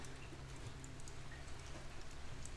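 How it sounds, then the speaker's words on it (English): Faint, steady hiss of heavy rain falling on a surface near a narrowboat under conversion, a continuous even patter with no voices. "Is that heavy rain?"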